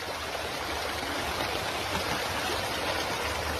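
Steady, loud rush of fast floodwater flowing over a road, a dense continuous roar with no pauses and no voices.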